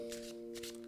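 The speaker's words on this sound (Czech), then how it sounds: "No a já už si na to tady karty zamíchám." Tarot cards being shuffled by hand, two quick riffling bursts close up and quiet over a steady low electrical hum, with no talking.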